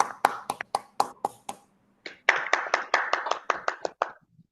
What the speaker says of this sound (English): give a thunderous round of applause to our Chief Sergeant at Arms